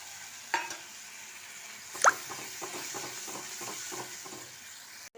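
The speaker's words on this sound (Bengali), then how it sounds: "তেল ছেড়ে দিয়েছে, এবার দিলাম আমি একটু জল" A little water going into a pan of hot oil and spices for a cabbage dish, a sudden splash and hiss followed by steady close sizzling with small bubbling pops.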